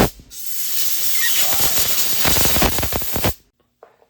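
Brake cleaner sprays in a long, loud, steady hiss into the bolt holes of a Tremec TKO600 transmission case, sputtering toward the end before cutting off abruptly into near silence.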